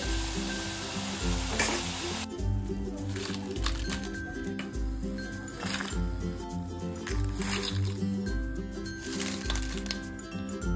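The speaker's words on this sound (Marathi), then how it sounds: "अशा पद्धतीने ना बाकीचे सगळे नाचोस फ्राय करून घ्यायचे।" Wheat-flour nachos fry in hot oil with a steady, loud sizzle and bubbling throughout, with faint tonal music running underneath.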